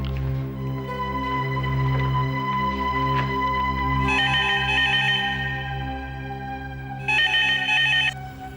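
A telephone ringtone plays steadily in a Hindi TV drama scene over background music, with brighter ringing bursts near the middle and the end.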